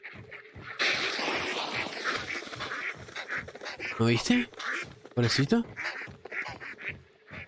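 Ducks quack in the game Hunt: Showdown, a burst of nasal calls in the middle mixed in with lively Spanish conversation between players.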